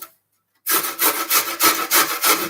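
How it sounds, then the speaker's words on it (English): Fresh ginger rubbed across a small grater, a quick series of rhythmic scraping strokes, close and crisp, after a brief silence. "grate my ginger."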